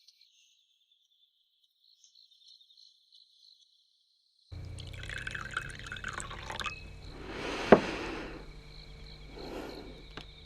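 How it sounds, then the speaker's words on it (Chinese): Water poured from a vessel into a drinking cup, a faint trickling splash that rises and then trails off after a few seconds of near silence and a steady insect-like background whine, with no talking. "谢前辈，喝水"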